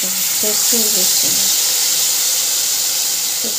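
Mustard paste hits hot oil seasoned with nigella seeds in a pan, giving a steady loud hiss and sizzle throughout, while a voice speaks briefly in the background.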